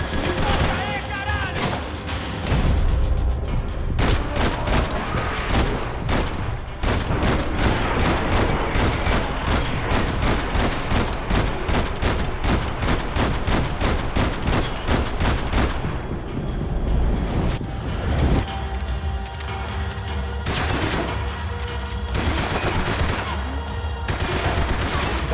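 Rapid bursts of gunfire and machine-gun fusillades from the video game Max Payne 3, dense and loud almost throughout, with a voice briefly heard among the shots.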